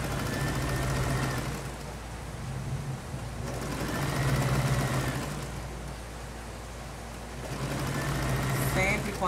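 A sewing machine stitching bias binding onto the edge of a fabric table runner, steady mechanical whirring in bursts with short pauses, close and prominent, while someone talks softly and rain falls outside.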